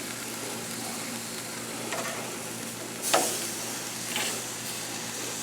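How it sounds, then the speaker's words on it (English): Thin marinated steaks sizzle on a grill, a continuous soft crackling hiss with a low hum beneath, broken by a couple of brief scrapes or clicks as the meat is handled. "These steaks won't take very long to cook at all,"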